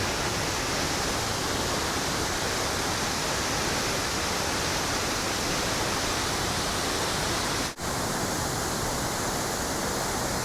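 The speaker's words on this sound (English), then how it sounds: "This waterfall is awesome right now. Tons of water coming off that thing." Ouzel Falls in Rocky Mountain National Park pours with heavy flow, a loud, steady broadband roar of rushing water that fills the whole clip with no voices, broken only by one brief dip near the end.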